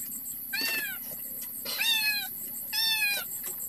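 A cat meows three times, each call drawn out and rising then falling, fairly close, against a steady outdoor background hiss with no talking.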